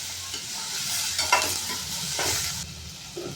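Onions sauté in a pan with a steady close sizzle and the scraping swish of a spatula stirring through them, no voices.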